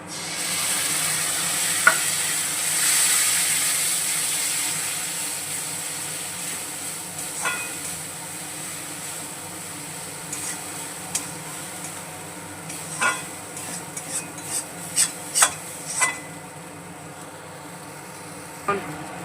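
Spice paste hits a pan of fried onions for a pabda fish curry and fries with a loud, steady sizzle that slowly fades, followed by a run of sharp spatula scrapes and clicks as it is stirred.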